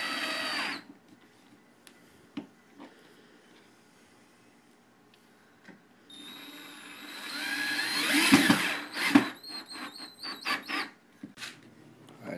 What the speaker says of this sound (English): you're going to want to get your pilot holes drilled for your brackets